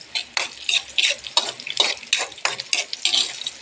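Food being stirred in a cooking pan with squash, with quick scraping and sizzling strokes in an uneven rhythm, close and fairly loud, and no talking.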